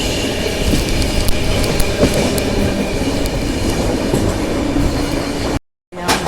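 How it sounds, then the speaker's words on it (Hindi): Andhra Pradesh Express passing at night on a ghat section, loud continuous rumble and rattle of rail cars with clicking wheels, cutting out abruptly near the end. "और ये जा रही है अपनी आंध्र प्रदेश एक्सप्रेस, जो कि अभी आई है तमिलनाडु को ओवरटेक करके।"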